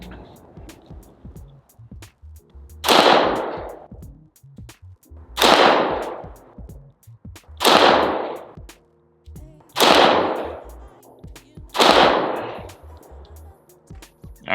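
An Agency Arms Glock 17 pistol fires 115 grain practice ammo at an outdoor range, five loud, sharp shots spaced about every two and a half seconds, each ringing out with a short decay and faint background noise between.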